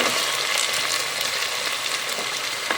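Onions sautéing with ginger-garlic paste, green chillies and vegetables for a vegetable biryani give a close, loud, continuous crackling sizzle that holds steady throughout.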